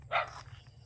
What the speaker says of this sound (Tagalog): So we got so many dogs.